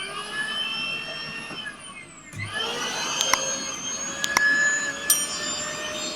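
A 1200 W Kitchen Idol blender motor, rated around 26,000 rpm, whines loudly and steadily, dips briefly, then spins back up to a high pitch with a few sharp clicks along the way.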